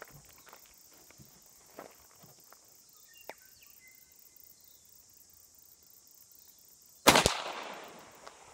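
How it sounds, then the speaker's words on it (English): Crickets chirp and faint footsteps or rustling fill a quiet outdoor scene before a single sharp, close report rings out from a Rossi 92 lever-action rifle firing a subsonic .357 Magnum load, fading over the following second. "I'm just going to shoot out of the Rossi 92 for a start"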